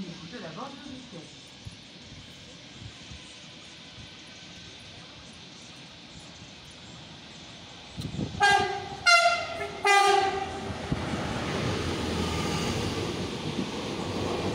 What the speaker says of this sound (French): Voie 2B, attention au passage d'un train.